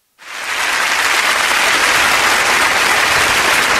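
Loud, dense applause rises quickly from silence and holds steady, a crowd clapping continuously without pause.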